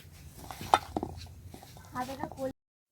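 Dough is kneaded by hand with black cumin and water in a bowl, making soft squelching stir noises with a few light clinks against the vessel, and a voice speaks briefly near the end.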